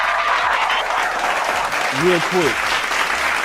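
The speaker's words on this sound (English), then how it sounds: "We got to clap it up." A studio audience claps steadily throughout, loud and close, while someone speaks briefly over the applause.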